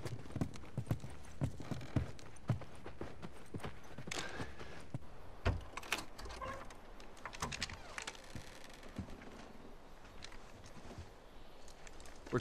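Horse hooves clip-clop at a walking pace in The Last of Us Remastered, with irregular thuds and some creaking and clattering mixed in. The sound is moderately loud, fairly close and continues throughout.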